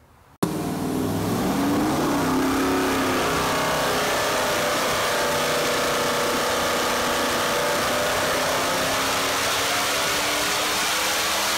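A modified 5.3-liter LS V8 (LM7 with Brian Tooley stage 4 LS3 cam and Trick Flow 220 heads) runs naturally aspirated on a dyno, kicking on abruptly and then holding a loud, steady roar that rises in pitch over the first seconds.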